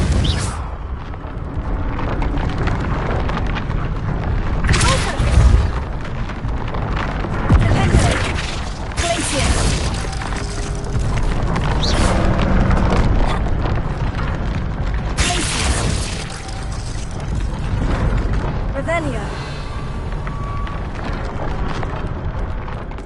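Confringo fire spell explosions in Hogwarts Legacy, several loud booming blasts and crackling bursts over rumbling game sound, with a voice casting spells between them.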